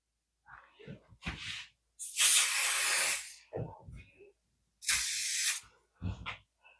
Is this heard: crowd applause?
no